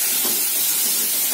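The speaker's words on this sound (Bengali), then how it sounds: "মশলাটা কিন্তু হালকা কষিয়ে নিই," Spices lightly frying in a pan give a steady, dense hiss and sizzle that runs unbroken and fairly loud throughout, with no talk over it.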